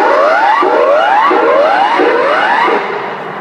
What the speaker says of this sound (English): The next sound you hear will be the standard emergency warning signal.